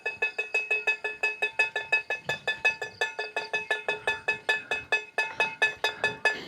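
A wind-driven bird scarer, where a fan swings a small stick against a cooking pot, makes rapid metallic clinks that ring with bright tones in an uneven rhythm, close and clear, with no voices.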